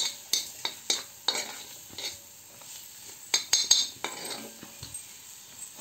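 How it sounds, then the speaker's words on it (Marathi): Okra, tomato and potato added to a hot oiled pan, sharp clinks and scrapes of a metal spoon against the pan over a quiet sizzle, in irregular bursts. "तर ह्याच्यामध्ये आपण भेंडी आणि टोमॅटो, बटाटा सर्व टाकूया."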